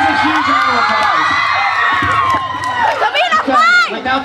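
Crowd at a boy band school performance at Young Oak Kim cheers and whoops loudly, high excited shouts and screams layered over continuous crowd noise with voices throughout.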